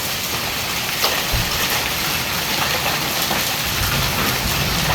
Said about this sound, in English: we're getting ridiculous hail.